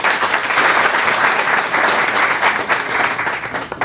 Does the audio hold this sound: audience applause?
yes